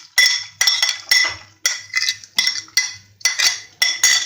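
A metal spoon scrapes and clinks against a pan while roasted dry fruits are stirred into sooji halwa, giving a steady series of about ten close, sharp strokes with short gaps between them.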